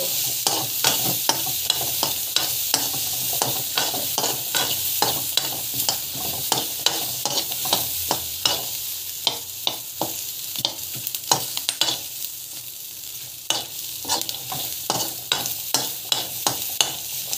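Onions sizzle and fry in a hot pan, with steady crackling and repeated scraping stir strokes throughout; no one speaks.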